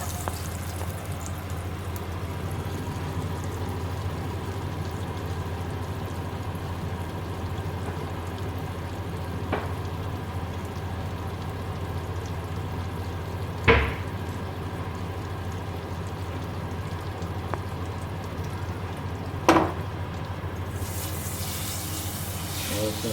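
Bacon and asparagus frying in butter in a pan, a steady low sizzle throughout with a few sharp clinks of a utensil, close by.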